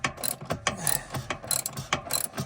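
A ratchet with a 19mm socket tightens a nylock bolt on a VW Crafter swivel seat base, giving a quick run of close, sharp, repeated clicks in uneven bursts.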